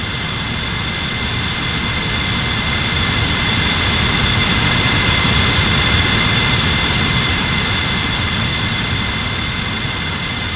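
Jet airliner engines roar during takeoff, a loud, steady, continuous broadband rumble with a whining tone on top, close and unbroken throughout.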